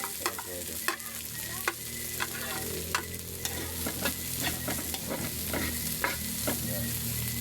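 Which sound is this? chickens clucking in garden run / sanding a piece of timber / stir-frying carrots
stir-frying carrots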